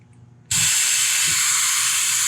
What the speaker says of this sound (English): We're going to gas it up and look for the leak, see if we can hear it